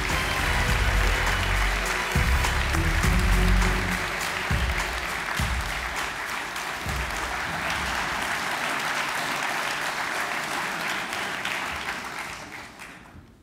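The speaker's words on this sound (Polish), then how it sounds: "wielkie brawa!" Sustained loud audience applause as Leszek Miller is welcomed at an SLD party election convention in Poland, a dense crowd clapping for over ten seconds, with a few low thuds early on, then slowly fading at the end.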